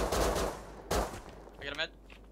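Gunfire in the survival game Rust: two or three sharp broadband shots cut through a close firefight, with a voice talking briefly between them.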